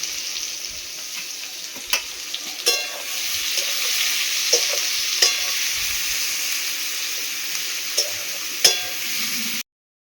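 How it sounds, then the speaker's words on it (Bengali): Meat curry gravy simmering in a pan gives a steady close hiss of bubbling and sizzling, with occasional soft pops and clicks scattered through, ending abruptly. "রান্নাও হয়ে গেছে দেখো খুবই একদম ঝোল ফুটছে টবক করে"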